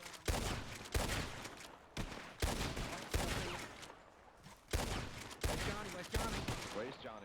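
Bursts of gunfire from an online shooter game, several loud sharp volleys spaced about a second apart with rattling fire between them, under steady team chatter.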